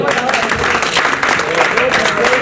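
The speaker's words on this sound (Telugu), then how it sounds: "అందరూ కూడా క్లాప్స్ కొట్టాలి." A crowd at a school batch reunion party claps steadily and densely, a continuous wash of applause filling the room with some voices mixed in.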